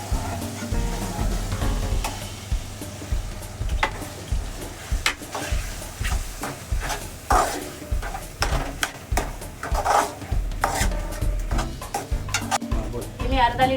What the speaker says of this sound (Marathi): तोपर्यंत आपण अजून रवा भाजून घेऊया.